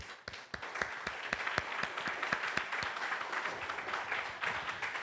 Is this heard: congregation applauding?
yes